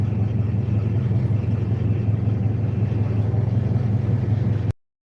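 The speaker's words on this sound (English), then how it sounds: "We're in traffic right now." Steady low engine rumble and road noise from inside a moving car, continuous, then cutting off abruptly near the end.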